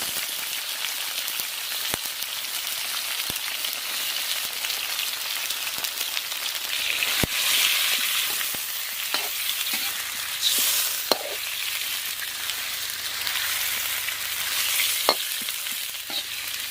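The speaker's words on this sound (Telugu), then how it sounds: "ఈ ఫస్ట్ నూనెలో కొంచెం వేగాలి" Chicken pieces with green chili fry in hot oil, a steady dense sizzle and crackle with scattered pops and occasional stirring clicks, close and continuous with no talk.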